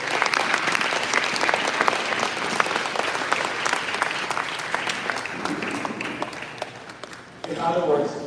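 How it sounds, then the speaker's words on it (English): A round of applause from the audience at a Maine Department of Education youth summit, sustained crowd clapping for several seconds that fades out before a speaker resumes talking. "So give them a round of applause before we go any further."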